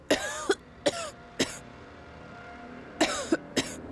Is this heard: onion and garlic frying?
no